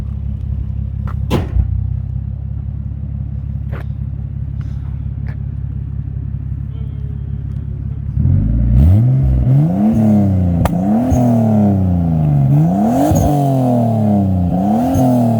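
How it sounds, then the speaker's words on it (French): Nissan Skyline R34 GTT with an HKS dump valve, heard at the exhaust: a steady, rumbling idle for about eight seconds, then a run of loud, sharp revs that climb and fall again and again, close up with no talk. "On entend bien la dump valve, hein. La HKS, on l'entend bien."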